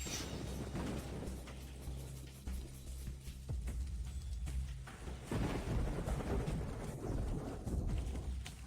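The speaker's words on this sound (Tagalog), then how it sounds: "Sa gitna ng malakas na ulan," Steady heavy rain hisses throughout, with occasional low rumbles and thuds beneath the downpour.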